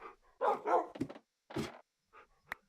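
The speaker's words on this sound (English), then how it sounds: "Why is it so much dogs? There's so much dogs here." Several dogs bark and yip in a Minecraft-style video game, short bursts clustered early then a single bark and a few brief yelps after a pause, fairly close and moderately loud with no talking.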